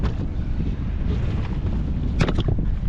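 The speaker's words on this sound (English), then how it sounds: "it's getting windy" Wind buffets the microphone on a boat offshore while people fish for salmon and brown trout, a continuous broadband roar with a few stronger gusts near the end.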